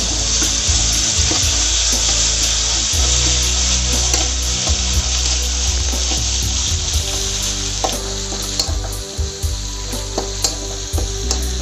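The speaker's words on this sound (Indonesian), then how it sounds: "Langsung kita cemplungin bumbu halusnya ya. Kita oseng-oseng dulu ya biar wangi." Ground spice paste stir-fries in hot oil in a pan, giving a loud, close, continuous sizzle. Spatula clatters and scrapes come in steady stirring strokes, and no one speaks.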